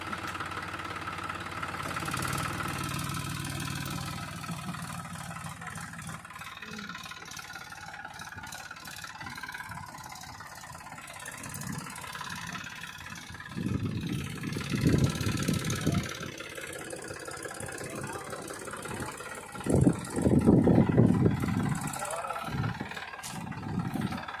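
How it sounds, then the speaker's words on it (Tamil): A heavy diesel tractor engine idles with a steady rumble, then revs louder in bursts as it pulls away after a mango harvest, with clunking and rattling throughout. "இப்போது ஃபஸ்ட்டு டிராக்டர் போயிடுச்சு இது ரெண்டாவது டிராக்டரு"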